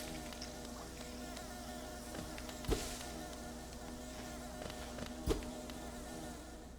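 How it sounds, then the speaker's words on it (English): Bees buzzing in the video game Hollow Knight, a steady continuous drone with two sharp impact-like clicks partway through, no voices over it. "The bees!"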